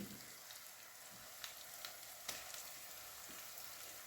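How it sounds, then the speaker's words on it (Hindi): Soft steady sizzle of noodle spring roll filling frying in a pan, with a few faint crackles and pops over the even hiss. "थोड़ा सा फ्राई करते हैं 1 से 2 मिनट"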